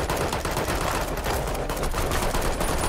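Dense, continuous gunfire from Fallout: The Frontier, a steady barrage of overlapping shots that sounds like rapid automatic fire, loud and unbroken for about three seconds with no talking over it.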